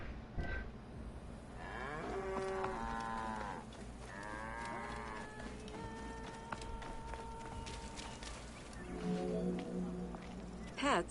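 Cattle lowing in the ancient Egypt setting of the game Assassin's Creed Origins, several long drawn-out moos from more than one animal over a faint ambient bed, with a narrating voice heard beneath.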